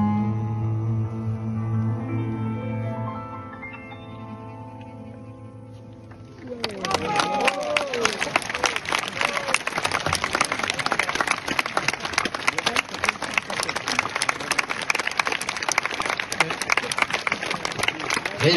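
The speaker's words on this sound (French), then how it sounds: "Régis Béguet, on l'applaudit." An audience at a performance applauds Régis Béguet, with dense sustained clapping from a crowd that starts abruptly after a fading sung or played note and keeps going steadily to the end.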